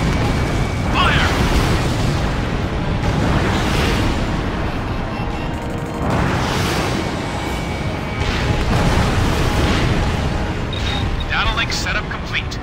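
Deep booming blasts from a destroyed tank in the combat flight game Ace Combat Infinity, rolling in repeated waves over a constant roar, with radio-style voices talking over them.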